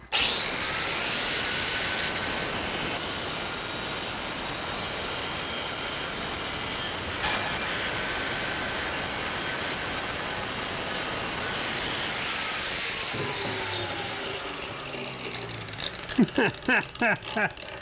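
A cheap $30 angle grinder fitted with a $30 blade cuts during a DIY bathroom renovation, giving a loud, steady, high-pitched grinding whine for most of the clip before it winds down into a few sharp clicks and knocks.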